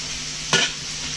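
Beef frying in a pan for orange beef with ginger, a steady hiss cut by a single quick stir or scrape near the middle, close and fairly loud.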